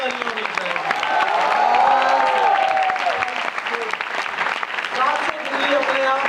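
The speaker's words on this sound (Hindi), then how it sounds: "और आप सब लोगों के लिए जोरदार तालियां होनी चाहिए।" An audience at a convention in Jaipur claps loudly and steadily while voices carry over the applause, which eases off slightly toward the end.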